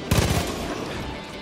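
Gunfire in the Far Cry 5 video game: a sudden burst of rapid, loud shots at the start that quickly fades into a reverberant rumbling tail.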